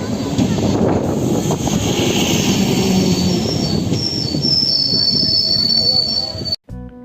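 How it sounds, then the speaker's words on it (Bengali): A local train arrives at a station near Susuniya on a foggy morning. Its wheels squeal high and steadily over a loud, continuous rumble of rolling cars, close by, before the sound cuts off abruptly. "এই যে দূরে দেখা যাচ্ছে ট্রেন আসছে"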